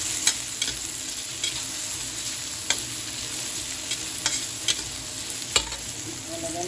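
Onions sizzling steadily in a hot pan, a constant close frying hiss broken by a few sharp pops and ticks.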